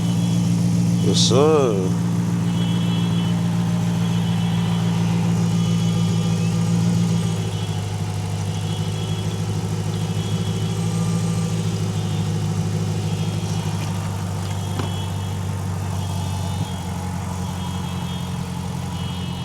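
A car engine turns over and settles into a steady, low idle that runs throughout, with a brief spoken reply near the start.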